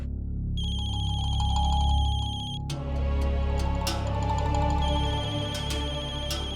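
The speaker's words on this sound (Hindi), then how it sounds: "मम्मा फोन की आवाज तो यही कहीं से आ रही है।" A mobile phone ringtone chimes in a repeating electronic melody, steady and clear, then shifts to a fuller musical tone with bright accents, ringing on alone without voices.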